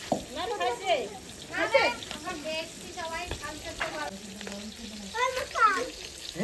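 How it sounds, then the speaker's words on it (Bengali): Pieces of a large rita fish fry in a pan with a continuous sizzle, while people talk over it throughout. "এইভাবে সব আমি ভেজে নেবো মাছ।"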